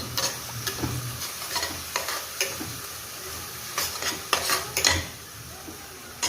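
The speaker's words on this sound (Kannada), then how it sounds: "ಈಗ ಸರಿಯಾಗಿ ಎಲ್ಲವನ್ನು ಫ್ರೈ ಮಾಡಿಕೊಳ್ಬೇಕು" Spinach and mint leaves fry in a pan for a veg biryani, a soft steady sizzle broken by repeated clinks and scrapes of a spoon stirring against the metal pot.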